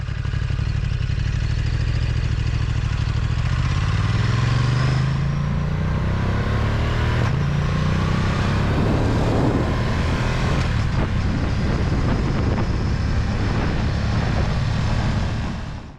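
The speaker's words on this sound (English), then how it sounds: "A twist of the throttle will throw you back in your seat." A Ducati DesertX adventure motorcycle accelerates hard on New York roads under a twisted throttle, its engine note climbing steadily in pitch through the gears, loud and continuous, with wind rush and clatter.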